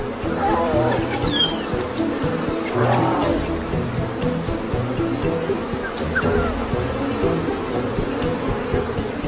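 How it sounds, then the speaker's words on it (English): A swarm of angry African honeybees makes a dense, continuous buzz that stays loud and close throughout, with a few faint chirps above it. "A swarm of angry bees isn't the best lullaby for a tired wild dog."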